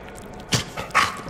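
A dog in the Deadpool PC video game gives a couple of short, close yips or barks in quick succession over a low game background.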